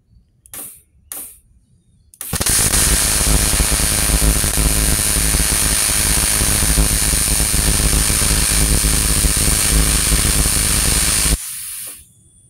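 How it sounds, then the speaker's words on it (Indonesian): Argon welding of aluminium on a Multipro AC/DC welding machine: a loud, harsh, steady buzzing hiss that starts abruptly, holds for about nine seconds and cuts off sharply, preceded by a few faint clicks. "Kita coba cek jadi ini pengelasan aluminium"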